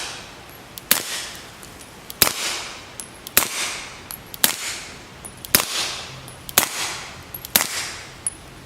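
Supersonic 9mm pistol shots through an AAC Illusion 9 suppressor, about eight sharp cracking reports at roughly one-second intervals, each followed by a short decaying echo outdoors.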